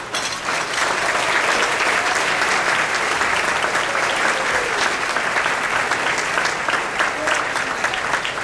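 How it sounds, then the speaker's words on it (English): An audience claps warmly for a speaker being welcomed at a foundation event, steady dense applause filling the room throughout without a break. "please give a warm round of applause and a nice welcome to Laura Mann."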